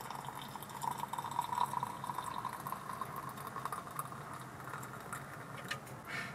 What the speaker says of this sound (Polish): I teraz zalewamy yerbę, ale nie do końca.